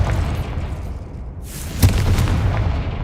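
A Confringo fire spell explodes in the Hogwarts Legacy video game, a deep booming blast with a sharp crack over a dense, rumbling game soundscape, loud and close, with no talking.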